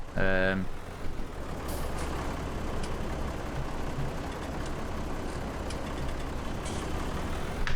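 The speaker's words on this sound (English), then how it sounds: "Why is traffic playing up today?" Road traffic in Farming Simulator 22, with a steady engine and tyre rumble from passing trucks and cars, a short beeping burst at the start and a faint hiss like air brakes, under a voice.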